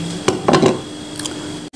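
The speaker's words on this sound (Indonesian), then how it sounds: "Wortelnya juga sama dipotong dadu juga." A few sharp knife chops dicing carrots land on a cutting board in a quick cluster, close and clear, then it goes quiet.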